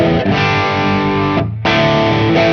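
Electric guitar played through a Tumnus overdrive pedal into a Deluxe Reverb amp, sustained crunchy overdriven chords ringing loud and close, with one short gap before the strumming resumes.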